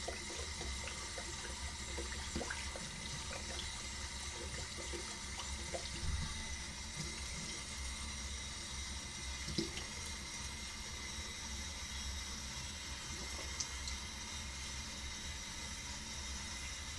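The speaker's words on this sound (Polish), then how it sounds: "czas zwilżyć twarz" Tap water runs steadily into a sink while someone wets their face before shaving. The rushing hiss is continuous and fairly quiet, with small splashes and clinks throughout.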